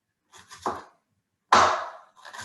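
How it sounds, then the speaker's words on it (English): A knife makes small cuts across an onion, heard as two short crisp chops on a board separated by a pause, with a softer scrape or tap at the very end. "And then I can just make really small cuts"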